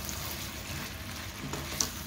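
Peppers and onions cooking in a pan, a steady soft sizzle and crackle of frying with a faint clink near the end.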